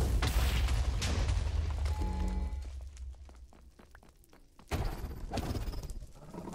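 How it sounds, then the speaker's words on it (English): Explosion in the Minecraft game, a loud low boom with rumbling debris at the start, dying into quieter crackles and pops, then a second burst of rumble near the end. "that's big explosion"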